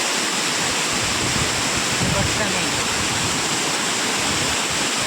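Vyaghreshwar waterfall at Manche in Konkan, running lower than usual after the rains: a steady, loud, close roar of falling water that fills the whole clip without a break.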